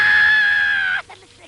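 A single high, sustained female scream held for about a second, then cutting off into quiet breathy murmurs.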